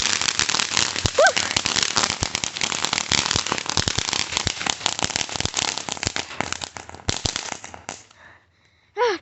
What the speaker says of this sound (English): Fireworks, I say, fireworks.